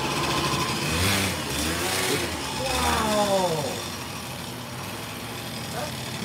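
An engine revs hard in repeated bursts during burnouts, rising and falling in pitch a couple of times before settling to a steadier drone, with people talking over it.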